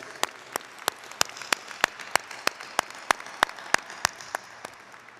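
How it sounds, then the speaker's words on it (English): Applause from the audience at a Clemson University spring graduation ceremony: a steady run of evenly spaced, sharp claps, about three per second, fairly close and alone, with no talk. "I think that's worthy of an applause."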